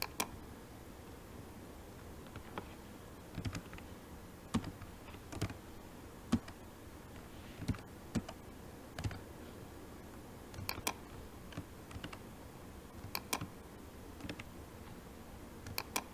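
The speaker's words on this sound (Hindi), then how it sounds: "यहाँ पर मैं यूजर 1 का ईमेल एड्रेस टाइप करूँगा और यहाँ पर ईमेल सर्वर का IP एड्रेस टाइप करूँगा।" Keys on a computer keyboard typed in short irregular bursts while an email address and IP address are entered, faint close clicks separated by pauses over a quiet room.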